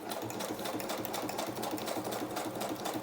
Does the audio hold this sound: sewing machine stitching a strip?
yes